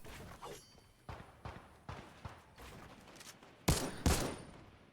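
Fortnite gunfire on Lazy Lake during a trios playoff match, a faint scatter of distant shots at first, then two louder sharp bursts near the end.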